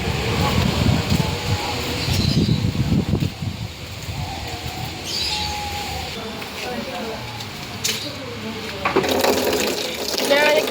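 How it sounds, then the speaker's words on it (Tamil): Water pours and splashes steadily, fairly close, while cleaning a fish tank, with scattered clatter and movement around it. "தண்ணி ஊற்றி நல்லா க்ளீன் பண்ண போகிறோம்"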